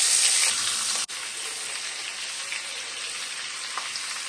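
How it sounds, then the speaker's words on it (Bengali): Prawns fry in a hot pan with oil, a steady bright sizzle that hisses loudly at first, then settles into an even crackle after a brief break, with no talking. "চিংড়ি মাছটা ভেজে নেব।"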